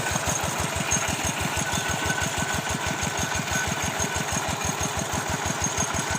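A water pump engine drains a fish pond outdoors at night with a steady, rapid, rhythmic thumping idle chug that runs evenly and continuously at moderate distance.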